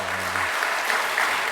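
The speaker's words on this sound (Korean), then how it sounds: "하나님께 영광의 박수 돌리겠습니다." A church congregation gives a round of applause during a Sunday worship service, a steady, dense burst of clapping from many hands throughout.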